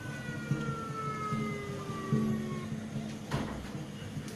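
Police car sirens at a Wesak Day floats procession wail in long rising and falling tones, distant and faint, over steady crowd and street noise.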